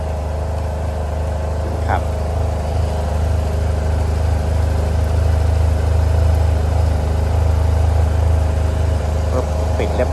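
A 2018 Yamaha TMAX-SX 530 scooter engine idles steadily after starting, a smooth, quiet, even low rumble running throughout with only faint clicks on top.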